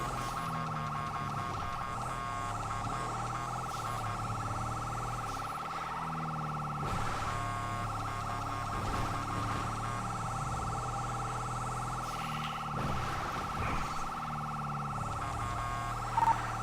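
A police emergency vehicle siren in the LSPDFR GTA V police mod video game, a steady, loud electronic wail that holds over a low engine hum throughout, with someone talking over it.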